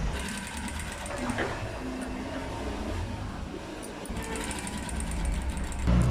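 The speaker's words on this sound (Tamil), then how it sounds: "இதில் நான் வந்து சிகப்பு கலர் நூலே தான் போட்டு தைக்கிறேன்" A sewing machine stitching a blouse with red thread, a continuous fast mechanical whirr running close and steady throughout, with a voice speaking softly underneath.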